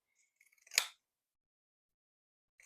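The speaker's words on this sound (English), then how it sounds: "I'm going to take my pinking shears and just trim off the excess" Pinking shears trim excess fabric from a quilted purse: a few faint light ticks, then one crisp, close snip stands alone in a quiet room, and a soft click comes at the end.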